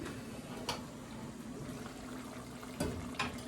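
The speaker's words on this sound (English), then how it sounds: "Lid off, simmering, it's hot." Coconut green curry simmers in an uncovered pot with a soft, steady bubbling and faint liquid gurgle, quiet and close, with a couple of brief clinks.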